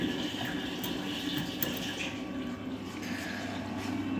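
Water running steadily from a tap into a small plugged basin on a lab rotameter rig, a soft continuous rushing fill, fairly quiet and alone.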